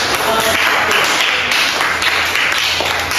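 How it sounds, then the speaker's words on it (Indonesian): Applause from students in a classroom: dense, steady clapping for about three seconds, loud and close, with no pauses. "tepuk tangan untuk"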